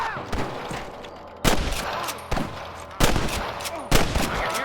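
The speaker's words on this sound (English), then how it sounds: "I can hear more gunshots." Sharp gunshots crack out in irregular bursts in a Red Dead Redemption shootout, several loud reports spaced about a second apart over a busy background of game noise.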